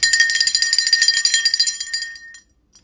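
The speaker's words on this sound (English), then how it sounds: "I'm going to ring a bell shortly to clear the energy." A small hand bell is shaken rapidly, its bright metallic tinkling rattling evenly for about two seconds before fading out, and a faint clink follows afterward.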